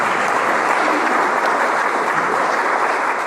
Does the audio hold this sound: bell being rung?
no